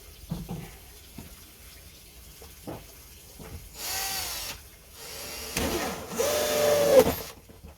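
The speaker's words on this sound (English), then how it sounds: "I first of all will just screw my pipe on" A pipe being screwed onto a homemade falconry travel box: a few faint taps, then louder scraping and creaking bursts with a thin squeak during the second half.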